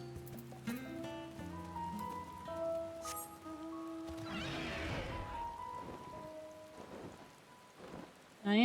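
Rain falls in Final Fantasy XIV over steady game music, a soft even wash under sustained tones with a brief swell of noisier patter midway.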